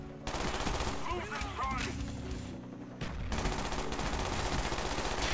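Rapid automatic gunfire in Call of Duty: Black Ops 1, dense and continuous bursts with a short pause in the middle, loud and close, with brief voice sounds in the mix.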